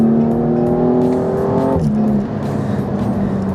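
BMW M235i fitted with a Fabspeed muffler-bypass exhaust, a loud close exhaust drone that climbs in pitch and then drops off sharply to a lower steady tone after a brief pause, with no voices.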